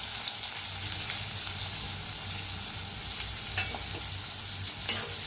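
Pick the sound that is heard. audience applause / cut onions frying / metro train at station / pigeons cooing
cut onions frying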